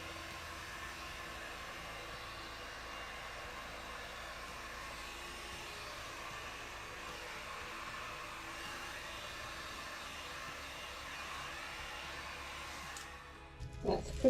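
A heat gun blows steadily on poured resin art, a constant airy whirring hiss at moderate level throughout, ending with a few brief knocks and handling sounds.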